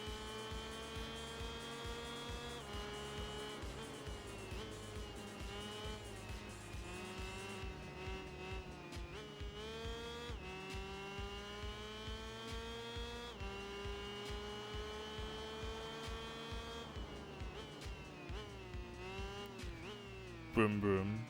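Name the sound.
motorcycle engine revving in Tourist Trophy video game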